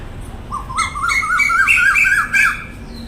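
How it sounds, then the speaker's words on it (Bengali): A bird gives a loud, close run of harsh, rising-and-falling screeching calls, several in quick succession over a few seconds, standing out clearly above faint background noise. "পাখিটা কখন থেকে চেঁচাচ্ছে।"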